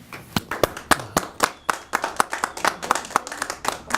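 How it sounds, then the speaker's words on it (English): Clapping on a talk show set, a small group of distinct, close hand claps in an uneven rhythm, sharp and individually audible rather than a dense roar. "Let's give him a round of applause for that."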